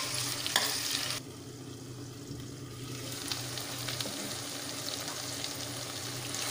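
Tindora (ivy gourd) and tomato pieces cook in a pan for a coconut milk masala curry, giving a steady low simmering sizzle with occasional stirring scrapes, close and alone without talk.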